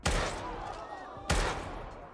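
Two sharp gunshots from a Squid Game scene ring out about a second apart, each loud and sudden with a lingering echoing tail.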